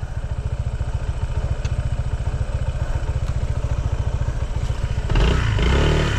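A Honda ADV 160 scooter engine chugs in a steady, rapid pulse while riding through muddy ruts on a trail. A louder burst of revving and clatter at the end.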